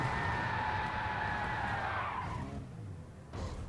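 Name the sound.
racing car tires skidding without traction control in racing video game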